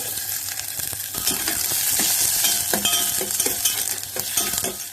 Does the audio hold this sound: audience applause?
no